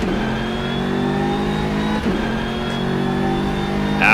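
A BMW M6 GT3 accelerating in the rFactor 2 racing game at Mugello, the engine climbing through revs with brief shift breaks, loud and continuous from the cockpit.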